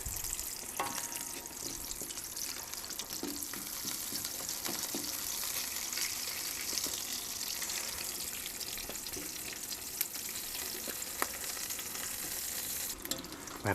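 An egg with a large yolk fries in a pan at a wall-tent camp breakfast, giving a steady, close, dense crackling sizzle with small pops and no voices.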